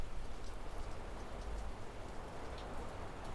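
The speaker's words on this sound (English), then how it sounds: "But it is torrential rain out there right now." Torrential rain pours steadily outside a studio, a dense, even wash of drops drumming on surfaces with no letup, heard faintly as a continuous roar with no voices.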